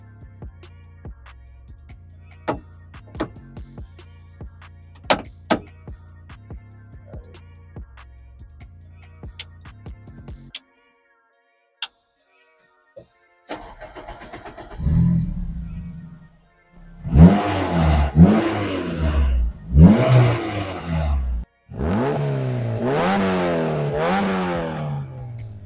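A Honda S2000 track car fires up with sharp clattering bursts, then drives off, revving hard through several rising and falling engine sweeps with brief gaps between gear changes, loud and close, without speech.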